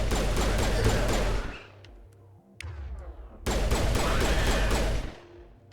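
Gunfire in the Mass Effect video game on Insanity difficulty, in a colony mission: two loud sustained bursts of weapon fire separated by a quieter lull with a whooshing tail, no talk.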